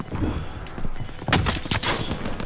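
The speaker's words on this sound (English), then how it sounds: "People shooting." Call of Duty: Warzone gunfire plays in bursts of rapid automatic shots, loud and close, with short pauses between the volleys and no talking.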